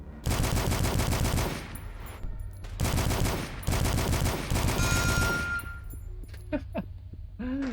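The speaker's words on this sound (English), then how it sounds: "Okay, assault rifle." Assault rifle bursts from a video game rattle loud and close in three long sustained volleys separated by short gaps, then fade into quieter clinks and a few faint sounds at the end.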